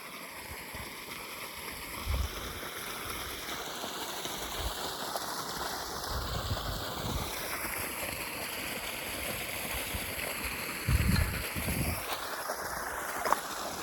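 Irrigation water flowing through a farm field on a morning makes a continuous rushing, gurgling wash with slight outdoor wind, steady and unbroken, no one speaking.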